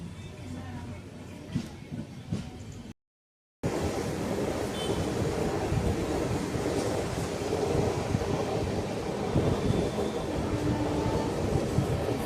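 Steady rumble and rattle inside a nearly empty railway carriage as the train runs toward Bangalore, a continuous loud wash of wheel and car noise, briefly cut to silence before resuming.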